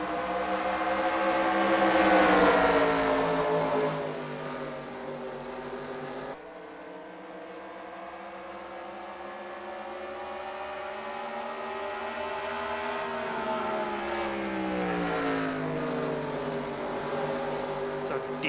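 Race cars on the XASCAR Round 1 start at Richmond roar away under the green flag, a droning, siren-like engine howl whose pitch surges, falls and climbs again as the field accelerates.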